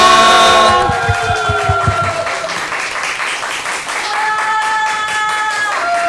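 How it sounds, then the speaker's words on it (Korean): A church congregation at a Christmas Eve celebration claps in applause, a moderate steady patter alongside sustained musical tones. "큰 박수 부탁드립니다"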